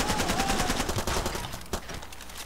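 Gunfire in the video game Far Cry 2, a rapid rattling burst of automatic shots that thins into a few scattered reports, close and fairly loud.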